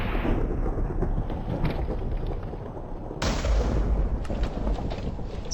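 Thunder in a Minecraft world booms overhead while the player is down in a mine, a rolling rumble with a sharp loud crack about three seconds in that echoes on afterward.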